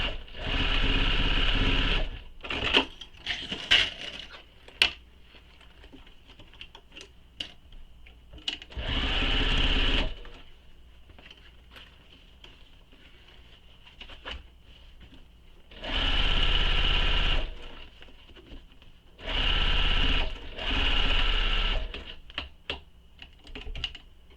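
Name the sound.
sewing machine sewing bag pocket side seams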